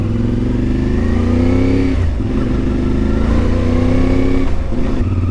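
CFMoto Ibex 450 motorcycle engine revving as it rides, a loud, steady close-up drone with rising and falling pitch and a brief dip around the middle.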